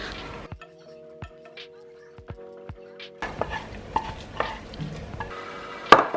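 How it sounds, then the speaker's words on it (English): Scrambled eggs stirred in a frying pan, with a few sharp clicks of a utensil against the pan followed by soft scraping and faint sizzling, close up with no talking. "Scrambled eggs."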